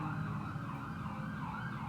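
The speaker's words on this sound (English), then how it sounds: "There's a lot of sirens." A wailing emergency siren rises and falls steadily in the distance, with a low rumble of traffic underneath.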